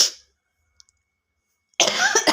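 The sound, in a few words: cough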